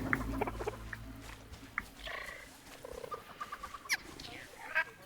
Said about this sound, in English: You could hear them chirping.